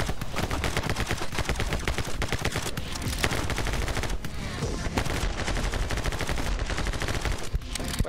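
Rapid gunfire from the action shooter game My Friend Pedro, dense bursts and machine-gun rattles filling the whole stretch, loud and continuous with game music underneath.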